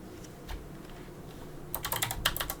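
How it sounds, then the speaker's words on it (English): Computer keyboard typing during a live digital art session, faint scattered key taps at first, then a quick close burst of clicking keystrokes. "Typing in Japanese."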